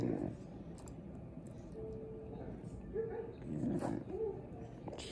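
A basset hound puppy growls and whines in short, close bursts, with a person talking over and between the sounds.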